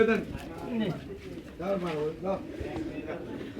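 Pigeons cooing at the Saruliya pigeon market in Bangladesh, several soft rolling coos close by against a busy market background.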